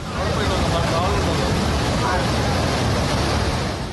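Floodwater rushes over a submerged river and nearby roads during heavy northeast monsoon rain in Idukki, Kerala. It makes a continuous, loud, broadband roar with no break or pause.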